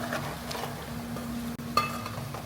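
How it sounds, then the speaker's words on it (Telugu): Chicken pieces for pickle fry over medium heat in a pan, a steady soft sizzle with occasional scraping stirs of a spoon against the metal, close and moderately quiet. "మీడియంలో పెట్టుకొని మంచిగా కలుపుతూ వేయించుకోవాలి"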